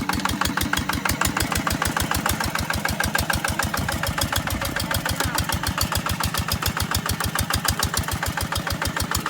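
A small tractor engine chugs while it ploughs loose, sandy loam soil with a plough disc in a cassava field. The thumping beat is rapid, steady and loud, and no one talks.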